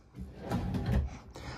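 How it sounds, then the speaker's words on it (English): A full-extension plywood box drawer on ball-bearing guides in a 2023 Forest River Arctic Wolf 3810 travel trailer rolls and closes with a short sliding rumble that ends in a soft thud, nearby. "You're going to have two full extension plywood box, ball bearing drawer guided drawers."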